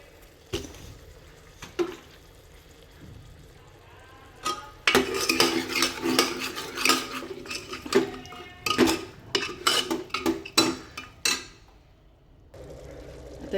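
A metal spoon clatters and scrapes inside a pot of washed sprout curry (usal for misal) as salt is stirred in, with quiet taps at first, then a busy run of loud clinks and scrapes that fades near the end.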